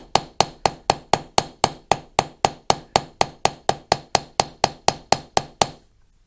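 A hammer strikes a rivet set on a leather knife sheath about twenty times in a quick, even rhythm, each sharp close tap ringing briefly before the strikes stop.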